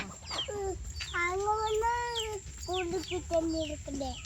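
Chickens cluck and call close by, a series of drawn-out, tonal bird cries with short pauses, over a quiet background hum.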